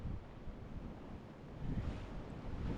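Ocean waves wash against a rocky shore on Hawaii's Big Island, a continuous rough surge mixed with gusting wind noise, swelling louder toward the end.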